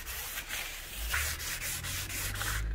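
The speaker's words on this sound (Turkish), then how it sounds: "Beyaz sabunu zımparaya sürterek de bu temizleme işlemini yapabilirsiniz" Sandpaper rubbed with white soap scrubbing a PVC window frame, a steady rasping scrape in repeated back-and-forth strokes, close and fairly loud, with no talking.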